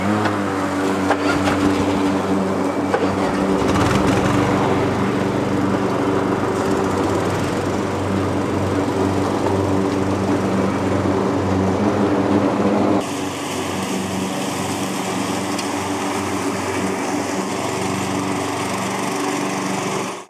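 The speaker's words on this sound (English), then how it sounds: "So I'll start my engine and start my blades." AL-KO ride-on mowers, petrol and battery models, run steadily with blades engaged cutting grass, a loud continuous drone that shifts to a slightly different tone partway through, with no talking.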